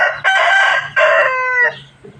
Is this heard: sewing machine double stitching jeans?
no